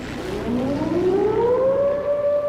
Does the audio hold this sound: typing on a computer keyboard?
no